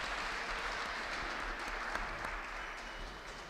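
At a women's varsity basketball game, the gym crowd claps steadily as an injured player is helped off the floor, an even wash of applause throughout.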